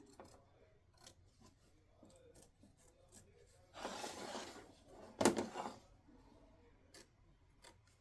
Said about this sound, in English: trim off the fabric